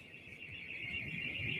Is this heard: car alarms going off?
yes